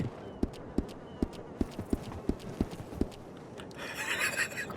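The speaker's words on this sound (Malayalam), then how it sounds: "കുതിര വണ്ടി." Horse-cart hooves in Red Dead Redemption clip-clop in a steady, even rhythm of about nine hits, fairly faint, followed by a brief burst of brighter noise at the end.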